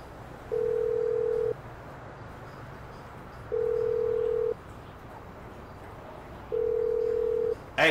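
Phone ringing in the video game GTA V: three steady electronic ring tones, each about a second long and evenly spaced, over a quiet low background hum.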